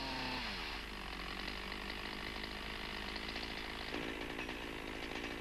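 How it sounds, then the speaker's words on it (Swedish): A 1985-era chainsaw limbs a felled tree trunk, cutting with the pulling chain, the engine revving loud and steady throughout while the chain bites through the branch. "Vik upp sågen och stöd den mot stammen och benet. Såga med dragande kedja."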